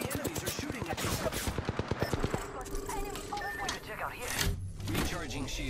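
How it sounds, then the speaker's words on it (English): Gunfire in the Apex Legends video game, a quick burst of rapid automatic shots in the first couple of seconds, then game effects and voices in the background. "The enemies are shooting at us."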